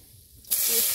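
Cumin seeds dropped into hot oil in a home kitchen, a sudden bright sizzle bursting in halfway through and holding steady and close, after a quiet lead-in.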